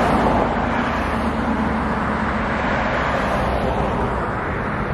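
An Orion 7 YOLO Bus pulls up close, its engine a steady, loud low rumble that continues without a break, with no talk over it.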